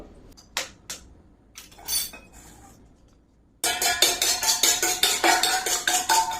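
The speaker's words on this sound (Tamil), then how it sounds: "முட்டையை உடைச்சி ஊத்திக்கோ." An egg cracked and poured for a kettle cake in a hostel kitchen: a few sharp taps and clinks, a pause, then a rapid, steady run of metallic clinking like beating in a bowl.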